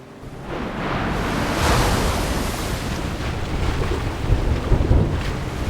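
Ocean waves surging around a boat in the video game Love and Deepspace, a loud, continuous rushing wash with wind, swelling and breaking toward the end, with no voices.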